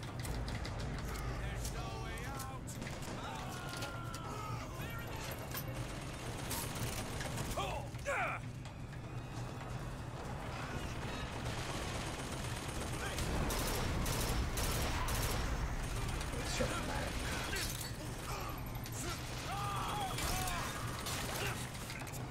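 Gunfire in the video game Bioshock Infinite: bursts of shots and mechanical clatter in a busy, continuous game soundscape.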